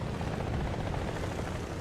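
Helicopter in the War Thunder combat game, a steady loud rotor drone that fills the whole moment without any pause or talk.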